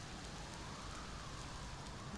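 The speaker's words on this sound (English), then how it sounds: "Now it's pouring rain and muddy trails." Heavy rain in the video game Shenmue II pours steadily in a dense, unbroken hiss, constant and even throughout with no pauses.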